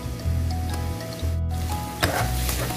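Tomatoes sautéing in a frying pan for ginisang sayote, a steady close sizzle with soft stirring scrapes and a brief pause midway before the frying noise resumes.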